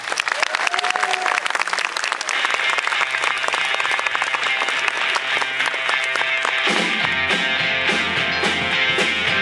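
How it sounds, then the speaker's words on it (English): Audience at a live show breaks into a loud, sustained round of applause that carries on throughout, with music and crowd noise building underneath. "please give a huge round of applause to Mr. James Boswell."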